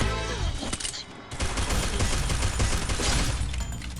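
Dense, loud automatic gunfire in the battle royale game Free Fire, a near-continuous fusillade of rapid shots with a brief pause before it resumes.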